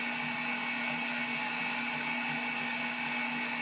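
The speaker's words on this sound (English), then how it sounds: "the Cuisinart mixer is a little bit slower than the one on the KitchenAid" A Cuisinart stand mixer runs steadily on speed 2 while kneading pizza dough, giving a constant whirring motor drone with a fixed whine, loud and unbroken throughout with no talking.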